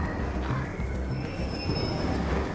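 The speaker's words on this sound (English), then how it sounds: "Train has arrived." A train pulling in within the Arc Raiders game world, with a low rumbling roll, clanks and a faint high squeal of wheels, steady and fairly close.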